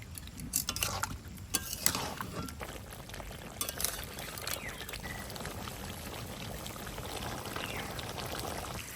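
Chicken kosha simmering in a pot with a little water, a soft continuous bubbling and hiss with a few stirring scrapes early on, fairly quiet and close.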